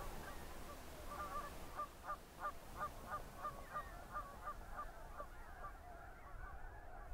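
A distant flock of snow geese rafting on a lake honks repeatedly in a steady, pulsing series of nasal calls over a quiet outdoor background.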